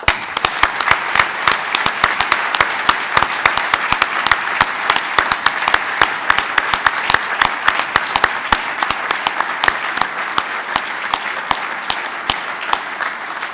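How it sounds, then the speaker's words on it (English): Sustained applause from a large audience at a United States Naval War College graduation ceremony, dense and steady clapping filling the whole stretch without pause. "please join me in saluting with our applause the November graduates"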